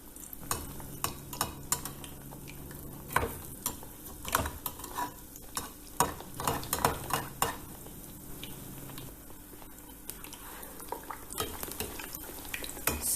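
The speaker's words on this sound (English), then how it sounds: "dip the eggplant pieces or the slices into the batter. Into the oil they go." Battered eggplant slices fry in a pan of oil, a soft steady sizzle broken by clinks and scrapes of a utensil against the pan as pieces are turned, fairly quiet and with no voices.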